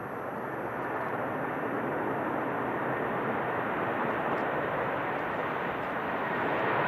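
A Virgin airliner passes at Manchester Airport during a storm, its engine roar blending into a steady, loud broadband rush of strong wind that fills the whole stretch without letup.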